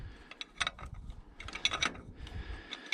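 Glow plug being worked out of an International B-275 tractor engine, with close metallic clicks, small ratcheting taps and scraping of a tool on metal, with no talking.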